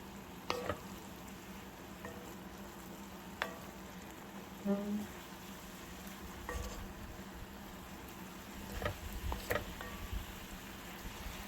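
Beef for a stew browns in a cast iron pot, giving a quiet, steady sizzle broken by a few soft clicks and scrapes, with no talking.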